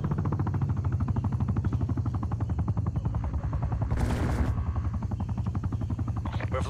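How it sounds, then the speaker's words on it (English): An attack helicopter's rotor in Call of Duty: Black Ops Cold War thumps in a rapid, steady chop throughout, loud and close, with a brief burst of hissing noise partway through. "Hostile attack helicopter inbound."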